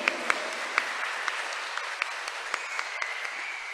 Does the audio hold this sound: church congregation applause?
yes